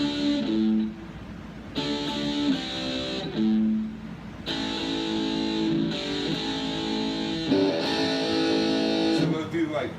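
A distorted electric guitar chugs a metal riff with palm-muted notes on a low pedal tone, broken by short pauses between loud, steady bursts.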